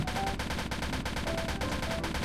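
Rapid automatic gunfire in the Roblox shooter Polybattle, a dense, continuous rattle of shots at an even rhythm throughout.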